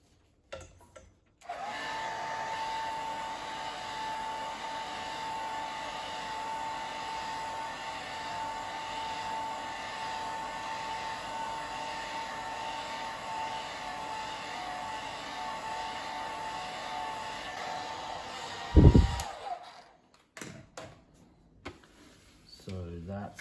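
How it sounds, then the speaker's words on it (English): A hair dryer runs steadily for about seventeen seconds, warming a resonant drum head so it molds to the bearing edge, then cuts off with a clunk and some handling noise. "I'll just use the hairdryer again"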